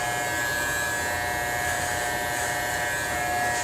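Steady, close electric hair trimmer buzzing without a break while shaving out a flattop haircut, a continuous even whine that runs alone with no speech.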